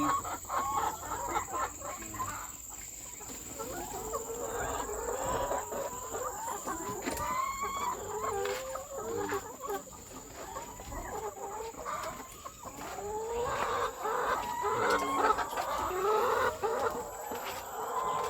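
Chickens cluck and chatter continuously in a coop, several birds calling in overlapping, rising and falling phrases at close to moderate distance, with a steady faint hum underneath and no talk.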